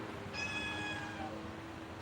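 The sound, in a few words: cat meowing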